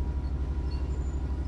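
A train in the Train Sim World 4 game rumbling steadily behind, a low continuous rolling drone with rhythmic wheel beats and faint high squeal, no talk.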